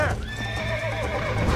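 Horse in the video game Red Dead Redemption, ridden on a ranch, lets out a close, loud whinny over a low rumble, with faint hoofbeats underneath.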